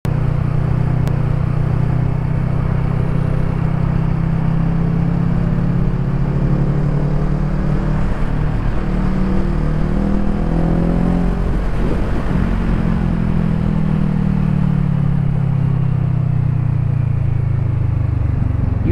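Motorcycle engine drones loudly and continuously on a short road ride with a Kawasaki Z650 and Honda CB650F, pitch slowly rising and falling as the bikes accelerate and ease off, with heavy wind rush and no talking.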